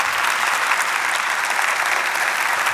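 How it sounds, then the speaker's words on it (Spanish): Audience applause for a woman being honored at a talk, steady dense clapping from a crowd filling the whole stretch at even loudness with no voices over it. "se merece un aplauso, aunque sea aquí ahora mismo"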